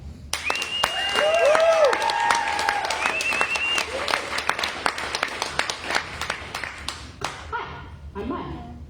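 An open mic audience claps in a lively round of applause over music, fading out near the end as a voice begins.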